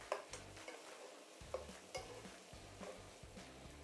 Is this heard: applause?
no